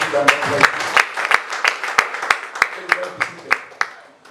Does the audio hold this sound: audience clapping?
yes